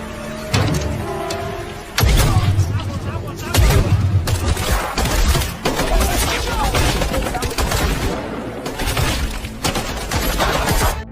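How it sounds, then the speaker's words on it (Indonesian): Gunfire in a film gunfight between Mexican elite special forces and cartel gunmen: loud bursts and single shots come in irregular volleys while a narrator's voice talks over them. "Dalam baku tembak ini, sebagian anak buah Ramon berhasil mereka ratakan"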